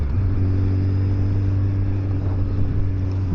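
A 1300cc Hayabusa motorcycle engine drones steadily up close, a loud, constant low rumble with a strong steady hum and no clear rise or fall.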